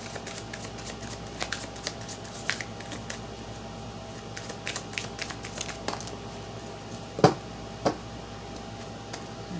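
Tarot cards shuffled during a reading, a soft fluttering riffle of card edges with scattered light taps and two sharper clacks near the end.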